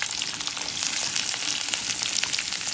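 Chopped onions go into hot oil with garlic for a tomato chutney, giving a bright, steady hiss and crackle that stays close and constant, with faint stirring and no talking.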